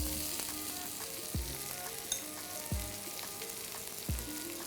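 Chopped onions frying in a hot pan for mutton dry fry, a steady crackling sizzle with three or four low thuds and knocks spaced through it, close and without talk.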